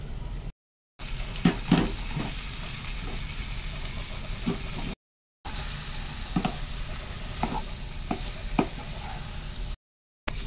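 Boiled jackfruit stir-fried in a pan with ginger, garlic and tomato, a steady close sizzle under scraping stirs and a few sharp clanks of the spatula, with brief gaps of silence.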